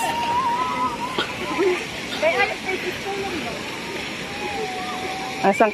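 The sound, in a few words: flowing water of a small stream in a park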